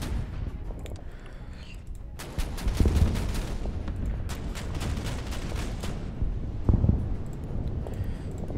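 Naval guns firing in the Pacific war game Order of Battle Pacific, a rolling barrage of repeated booming shots and bursts over a steady rumbling bed, loud and close with no talk.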